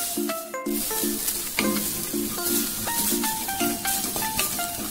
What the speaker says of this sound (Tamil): அடுத்து நம்ம கோகோனட் வறுத்துக்கலாம். ஜஸ்ட் ஒரு 2 minutes வறுத்தா போதும்.